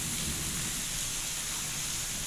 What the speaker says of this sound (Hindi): तो ये देख सकते हैं आप लोग कितनी ज़्यादा बारिश हो रही है